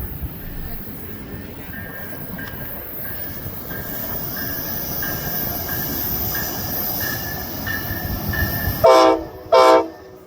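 An Amtrak passenger train, the Southwest Chief led by locomotive 203, rumbles steadily past with squealing wheels, then two loud horn blasts sound close by near the end.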